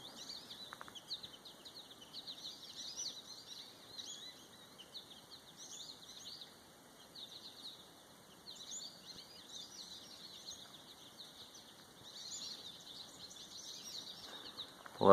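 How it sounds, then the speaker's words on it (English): Birds sing steadily along the rocky Appalachian Trail, a mix of high chirps and warbling phrases at moderate distance, with a faint rustle near the end and no talking. "Let y'all hear these birds."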